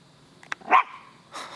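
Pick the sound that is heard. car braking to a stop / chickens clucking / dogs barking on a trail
dogs barking on a trail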